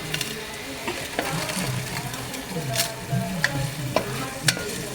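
Tomatoes fry in a pan with a constant sizzle while a spoon stirs and scrapes them, giving repeated soft clanks and scraping strokes close by, with no talking.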